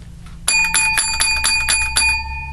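A bright bell is struck about seven times in a quick, slightly uneven rhythm, each ring loud and close, with the tones sustaining and overlapping into a shimmering wash.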